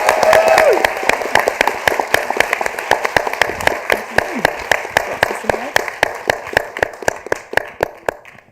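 At the Young Woman Engineer of the Year Awards 2024, an award winner is applauded by the audience: a fairly close burst of many hands that thins into fewer, sparser claps, with a voice briefly at the start.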